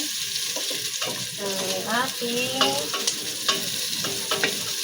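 Onions, ginger and garlic fry in a pan while a utensil stirs them, giving a soft steady sizzle broken by repeated scraping strokes against the pan, close and fairly quiet.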